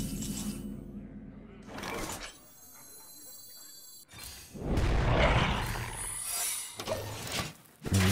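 An Explosive Trap triggering in Hearthstone, a sharp shattering burst followed by a rolling, booming roar, with game chimes and a brief voice around it.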